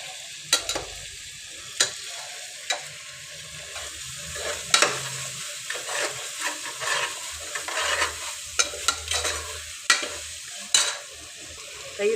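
Chicken with green chilies and curry leaves sizzling in a pan as it is stirred, with a steady frying hiss broken by sharp scraping strokes of a spoon, close and moderately loud with no talking.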